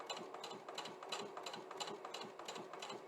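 A domestic sewing machine with integrated dual feed (IDT) feeds slippery fine fabric in a steady, rapid rhythmic chatter of needle strokes, close and continuous.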